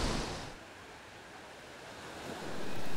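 Ocean surf rolls in steadily at Donnant beach on Belle-Île, a popular surfing spot, as a broad wash of breaking waves mixed with wind buffeting the microphone. The sound swells again toward the end.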